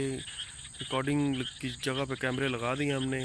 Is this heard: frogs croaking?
yes